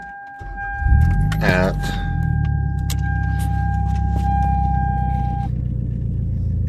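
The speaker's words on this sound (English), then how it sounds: "I just got the motor changed, and the car's running great" A Toyota Camry with a freshly replaced engine and over 365,000 miles starts up with a brief cranking whir. It then settles into a steady, smooth idle rumble close by, with a chime tone sounding for several seconds.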